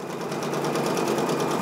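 A Brother PRS100 single-needle embroidery machine stitches a patch at about 600 stitches per minute, giving a steady, rapid mechanical chatter that runs on evenly and loudly without pause.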